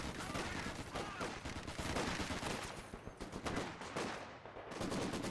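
Maxim machine guns fire in a Company of Heroes 2 battle, with dense, continuous rattling bursts and overlapping gunfire filling the battlefield at close range.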